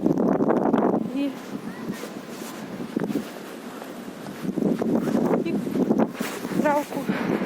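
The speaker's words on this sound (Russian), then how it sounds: "Такой ветер сильный." Strong wind blows outdoors along a lane near a house, gusting and buffeting the microphone in loud rumbling bursts while people talk intermittently over it.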